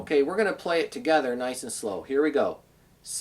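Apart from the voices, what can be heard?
No distinct noise like a dog, phone or traffic.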